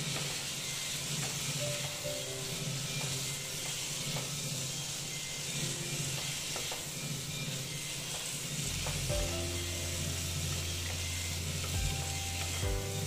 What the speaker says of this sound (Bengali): এই যে সয়াবিনগুলো যে ভেজে রেখেছিলাম এগুলো আমি দিয়ে দিচ্ছি, দিয়ে আবার কষিয়ে নিচ্ছি।